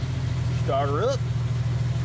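Vehicle engine idling at low RPM after being started, a steady low rumble throughout, with a brief rising whine over it midway.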